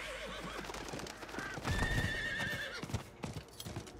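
Horse neighing with clip-clopping hooves in the Diablo IV video game, a clear whinny mid-clip over steady hoof beats, fairly quiet and with no talk.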